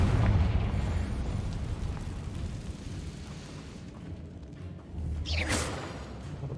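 Confringo fire spell in Hogwarts Legacy detonating as a loud booming explosion with a rumbling, crackling tail that fades, followed by a sharp whooshing burst near the end.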